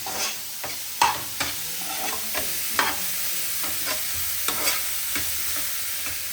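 Vegetables fry in a pan with a soft continuous sizzle, broken by repeated sharp scrapes and clinks of a spatula at an uneven rhythm, close and fairly quiet, with no talking.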